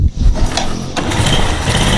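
A Yamaha Jupiter motorcycle engine catches on the first crank and settles into a smooth, steady idle, loud and close, with no talk.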